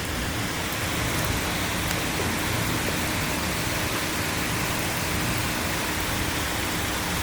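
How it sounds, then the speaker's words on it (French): Heavy rain pours during a strong June 2026 thunderstorm in Bordeaux, a dense, steady hiss that holds unbroken throughout with no distinct thunderclap. "Putain, la pluie entre."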